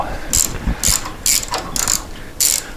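Ratchet clicking in short bursts while loosening the intake manifold on a dune buggy, about five quick ratcheting strokes close to the mic, with soft knocks of the tool between them and no talking.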